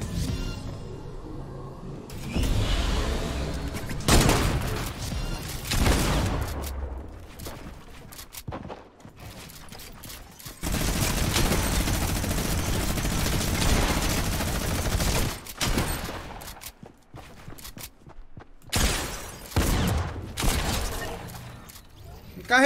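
Sniper rifle fire in the video game Fortnite, sharp loud shots and bursts of gunfire separated by brief gaps, with a player talking over the action.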